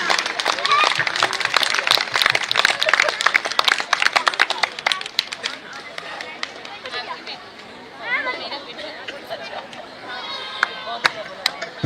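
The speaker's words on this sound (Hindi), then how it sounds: "जोरदार तालियों से स्वागत कीजिए भारतीय संस्कृति के नाटकीय प्रदर्शन का" An audience at a multipurpose court in the Mahagun Mywoods housing complex gives dense, lively applause to welcome a children's Sanskrit performance. The clapping thins into scattered claps while people chatter and talk nearby.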